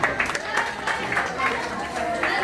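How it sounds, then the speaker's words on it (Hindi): An audience at a commemorative gathering claps in loose, uneven bursts, fairly close and moderate in loudness, with voices over it. "ताली बजाइए।"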